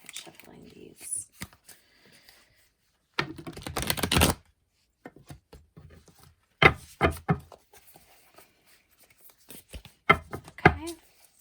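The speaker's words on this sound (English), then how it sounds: "Actually, I'm going to try shuffling these." Tarot cards being shuffled in bursts of rapid riffling and clattering, close up, separated by pauses with scattered taps and a person talking in between.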